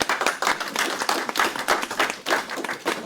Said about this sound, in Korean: 박수 칠까요? 한번 쳐주시겠습니까?